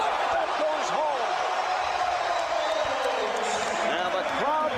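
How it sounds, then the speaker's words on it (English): Basketball arena crowd at the 2003 NBA All-Star Game roars and cheers continuously after a Michael Jordan basket, a loud sustained wash of noise with a commentator talking over it. "And the crowd responds."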